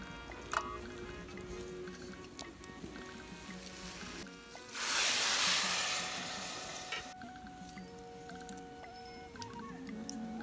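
Water is poured from a cup into a pressure cooker holding rice, a loud rushing splash lasting a couple of seconds midway through, framed by quieter kitchen clatter and faint sizzling before and after.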